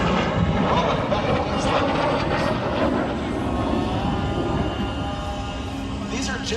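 A P-80 jet roars steadily overhead during aerobatics at an air show, hanging upside down along the display line, its loud continuous engine wash sustained throughout.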